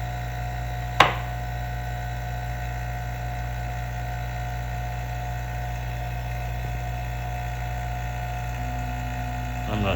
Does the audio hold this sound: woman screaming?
no